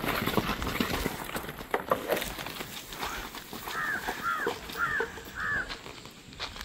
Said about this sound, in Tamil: ஹைர் குதிரையும் குட்டியும் மேய்ச்சல் போயிட்டு இப்போ தான் வராங்க